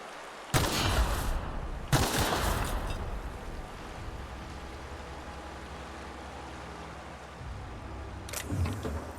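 A small pistol firing in The Outer Worlds: two loud, sharp shots a little over a second apart, each with a lingering tail, then quiet ambience and another fainter burst of sound near the end.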